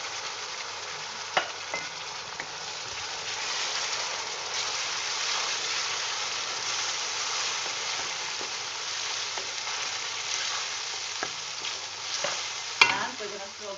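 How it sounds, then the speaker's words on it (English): Tomatoes go into a pan of sizzling spices for prawn biryani, giving a steady hissing fry with occasional stirring clatter and a sharp clank near the end, close and moderately loud with no talking. "Now we're gonna throw the tomatoes in."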